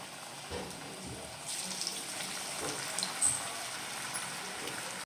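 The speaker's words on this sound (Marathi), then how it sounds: "आहे तसेच तळते बघू हे कसे होत आहेत ते" Uncoated fasting kachori fry in hot oil, giving a soft, steady sizzle with faint bubbling and a few light pops, quiet and close throughout.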